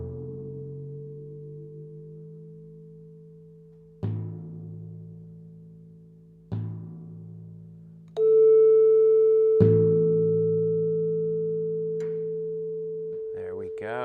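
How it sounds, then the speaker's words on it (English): A timpani is tapped a few times while being pedal-tuned to match a steady A reference tone. Each tap brings a soft, ringing strike that decays slowly as the pure tone keeps sounding underneath, with no talk. "We're going to slowly slide the timpani up until it reaches the pitch that matches this."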